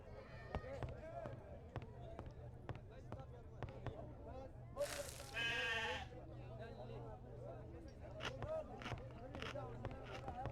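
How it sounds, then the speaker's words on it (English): A goat in the Murder on the Orient Express video game gives a brief bleat midway through, heard over footsteps and someone talking. "What is that goat eating?"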